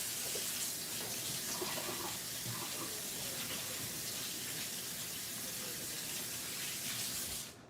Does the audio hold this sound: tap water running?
yes